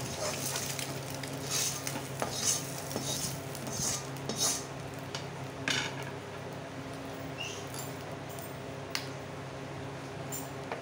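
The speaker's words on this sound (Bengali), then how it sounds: "ডিম কটাও ভেজে নিয়েছি, এখন তুলে নেব।" Fried eggs lifted from a pan of hot oil for dhaba-style aloo dim pyaza, a steady close sizzle under repeated scrapes and clinks of a metal spatula against the pan, with no voices.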